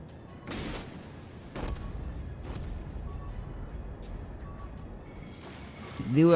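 Warship guns fire in the World of Warships video game, several deep booming shots spaced a second or so apart, followed by rumbling, with a sharper burst at the end and no talk over it.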